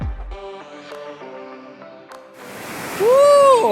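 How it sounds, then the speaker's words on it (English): Powerful river rushing in the high grasslands of Tagong, Sichuan: a broad, steady roar of water swelling up after some tonal music fades, close and loud, with a sharp whistling tone on top near the end. "This is a seriously powerful river"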